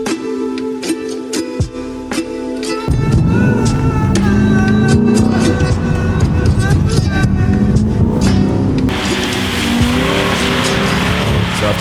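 Chevrolet Corvette C8 drifting around a skid pan, its engine roaring loud and steady and its tires squealing in long skids, with music underneath and voices heard at moments.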